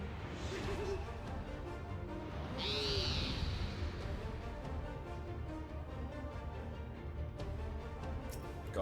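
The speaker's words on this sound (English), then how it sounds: "there's an owl" Owl hooting in the video game Final Fantasy XIV, a short tonal call near the three-second mark over a steady bed of game music and ambience, with no talk during it.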